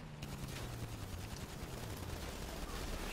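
Gunfire in a multiplayer video game, a dense continuous stream of rapid shots over a steady roar of in-game engine noise, loud and unbroken throughout.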